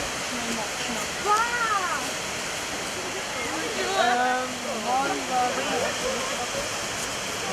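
Rushing water in the Papuk hills after heavy rain roars as a steady, dense wash of noise. Birds call and chirp over it now and then.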